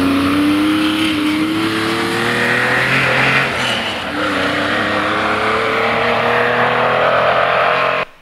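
A historic Category 1 rally car, a Mini Cooper, driving hard on a gravel forest stage, its engine loud and close with a sustained high rev and a shifting drone, then cutting off abruptly at the end.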